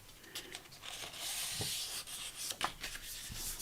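A scored fold in junk journal paper is burnished with steady, close rubbing and scraping strokes, plus a few brief louder scuffs. The sound is soft and has no talk.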